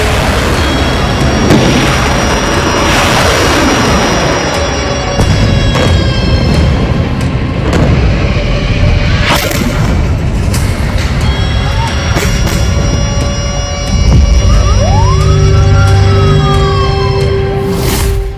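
Rocket attack in Israel during the Israel–Hamas war: continuous loud wailing sirens with dull booms and heavy rumble, outdoor and close, with some distant voices.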